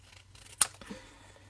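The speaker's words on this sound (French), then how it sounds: "Alors, on va recouper quelques petits pétales." A single crisp snip of scissors cutting paper petals for a handmade Mother's Day card, brief and close in a quiet room.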